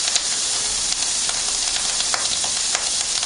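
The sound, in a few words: diced bacon and Italian sausage frying on high heat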